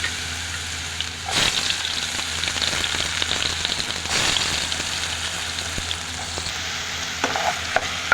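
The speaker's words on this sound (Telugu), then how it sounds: "ఇవి బాగా నూనెలో వేయించాల" Curry leaves and ridge gourd frying in hot oil with cumin, a steady close sizzle running throughout with a few brief louder crackles and stirring bursts.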